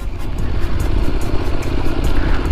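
A motorcycle rides a looping stadium circuit, its engine a steady, loud rumble that rises and eases with throttle through the turns, with no talk over it.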